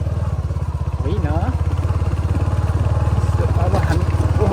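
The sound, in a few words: motorcycle riding on a rough stony road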